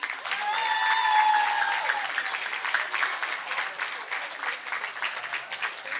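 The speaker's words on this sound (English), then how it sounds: "Let's give another round of applause to Jordan." An audience in a high school setting applauds, a dense burst of clapping that swells and then thins out to scattered claps, with a little talk underneath.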